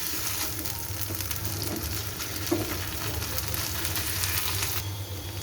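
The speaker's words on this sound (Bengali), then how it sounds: "এবার মশলাগুলোকে একটু ভালো করে ভেজে নেব যেন মশলাগুলো কাঁচা না থাকে।" Spices, including ground cumin paste, fry in a pan for an egg curry with a continuous close crackling sizzle and a low hum underneath, with one brief knock partway through.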